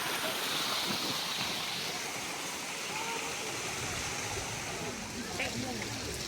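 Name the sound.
stream flowing at the zoo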